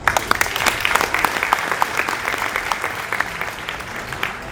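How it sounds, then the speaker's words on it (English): An audience at an engineering and semiconductor industry event claps as a speaker is introduced, dense steady applause throughout, fairly loud and close. "Give him a big round of applause."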